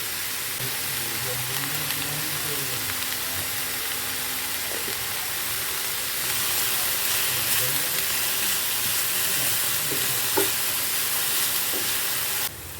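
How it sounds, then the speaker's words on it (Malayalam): Squid masala with salt sautéing in a pan for a Kerala-style squid roast: a continuous, even hiss of frying, close and fairly loud, with occasional faint stirring knocks underneath. "കുറച്ചധികം നേരം നമുക്കിതൊന്ന് വഴറ്റി കൊടുക്കാം"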